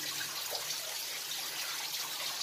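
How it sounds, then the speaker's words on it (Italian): Water from waterfalls inside an old mine, the Ciunetto mine, makes a steady, loud hiss of rushing, trickling flow that fills the space with no break and no voices. "valeva la pena solo per venire a vedere queste tre cascate"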